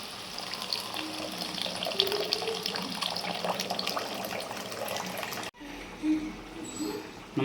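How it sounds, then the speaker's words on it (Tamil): Tamarind water pours into a simmering dried fish curry in a home kitchen, a steady close splashing trickle that breaks off briefly before resuming more softly. "புளித்தண்ணி சேர்க்குறோம்"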